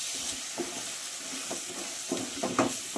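Chili powder fries in oil in a pan with a soft, steady sizzle and hiss, broken by a few light scraping stirs and clinks near the end.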